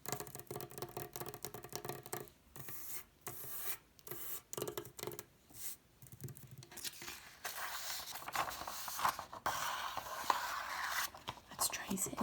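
A pen traces over paper in a close, quiet setting, making soft rasping scratches in short bursts and longer strokes broken by brief pauses, under soft spoken remarks.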